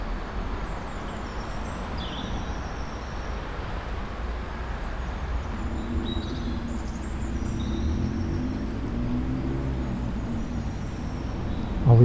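Traffic on a nearby road picked up outdoors by a shotgun microphone, a continuous low rumbling wash of passing cars that swells gradually, with faint bird chirps scattered above it.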